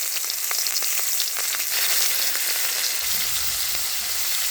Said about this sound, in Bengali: তেল গরম হয়ে গেছে, এবার চিংড়ি মাছগুলো দিয়ে দেবো ভাজার জন্য।